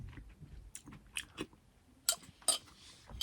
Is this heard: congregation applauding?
no